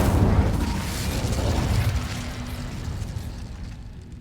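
The Incendio fire spell is cast in the video game Hogwarts Legacy, giving a loud, low, rumbling burst that opens strongly and then fades slowly into a soft hiss over a few seconds, with no talking.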